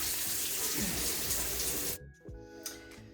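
Shower water runs in a steady, full rush for about two seconds, then cuts off, leaving a quiet room with a few light clinks and knocks.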